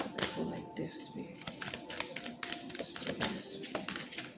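Tarot-style cards are shuffled by hand in rapid crisp riffles and taps close to the microphone, with a person speaking intermittently over the shuffling.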